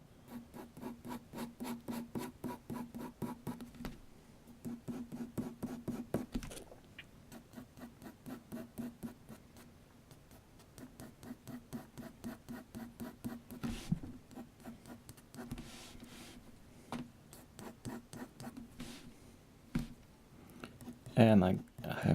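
Pencil shading on white paper around a drawn ear, a steady rhythmic scratching of soft strokes with brief pauses, close and quiet, under a narrating voice.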